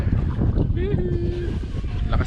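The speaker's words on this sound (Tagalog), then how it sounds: "Lakas ng hangin, grabe." Strong wind buffets the microphone on a small fishing boat at sea, making a loud, continuous low rumbling roar, with a brief tonal whine partway through.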